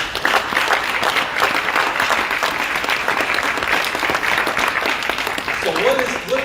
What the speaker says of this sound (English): give her another round of applause for that